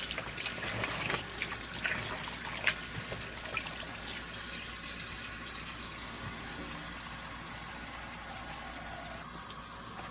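Cold tap water running steadily into a kitchen sink to wash chicken for curry, a faint continuous splashing hiss with small irregular spatters, no voices.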